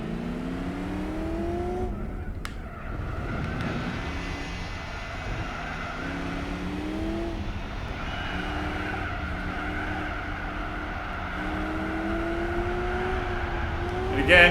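Car drifting in the racing video game Gran Turismo 4, a sustained engine drone with rising and falling revs under long, loud tire squeals that continue through the slide.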